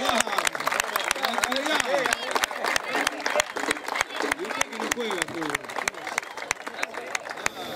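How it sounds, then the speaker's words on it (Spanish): Audience applause at a veterans' sports awards ceremony, dense rapid clapping from a sizeable crowd that runs throughout, with voices talking over it. "Aplausos,"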